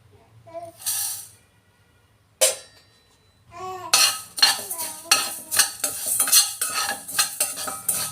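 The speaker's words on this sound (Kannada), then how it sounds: "ಸೊ ಇವಾಗ ಫ್ರೈ ಮಾಡೋಣ ಇವಾಗ ಕಡಾಯಿನ ಇಟ್ಕೊಂಡು ಇದಿಷ್ಟು ಫ್ರೈ ಮಾಡ್ಕೊಳ್ಳೋಣ" Coriander, dry coconut and fresh ginger tossed in a kadai: a few scattered clinks and scrapes at first, then a busy run of metallic stirring and light crackle, close by and without speech.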